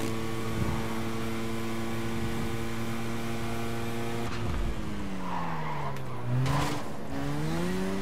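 A race car's engine whining at high revs in Need For Speed: Carbon, a steady loud tone that shifts abruptly midway as the nitrous boost kicks in, with tires squealing and pitch sweeping down and up.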